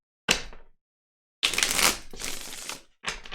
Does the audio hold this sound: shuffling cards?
yes